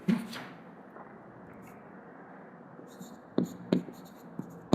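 Marker strokes squeak and scratch on a board during a commerce accounting lesson, several short bursts with pauses between them, close and moderately loud against a quiet room.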